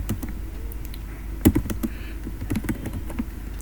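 Keys clatter on a computer keyboard while text is entered in the Vim editor, an uneven run of close, crisp taps with a brief quicker flurry partway through and short pauses between strokes.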